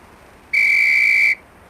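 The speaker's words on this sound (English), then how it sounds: "On the whistle, single to center mass." A single shrill whistle sounds at a police shooting range in the game Police Quest: SWAT, one steady loud tone lasting just under a second, set against quiet background.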